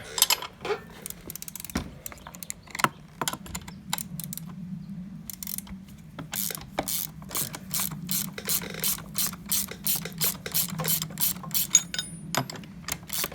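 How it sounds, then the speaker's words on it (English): A ratchet turns the lower bolt of the rear shock on a Honda CRF 110 dirt bike, with rapid, sharp metallic clicks coming in quick bursts and short pauses, close and clear and with no talk. "We can use the ratchets on the lower one"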